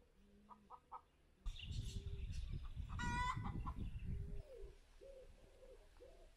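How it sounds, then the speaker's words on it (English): Chickens in a coop in a French village in the Loire Valley cluck and call nearby, with a loud burst of clucking and squawks in the middle and softer clucks before and after. "If you listen closely, maybe you'll hear the chickens saying good morning to us."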